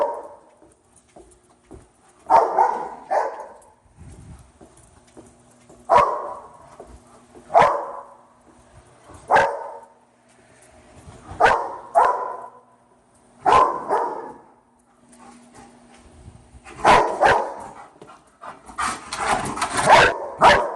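A police K9 dog barks during bark-and-hold training, loud, deep single and double barks at irregular intervals with panting between, becoming a rapid flurry near the end.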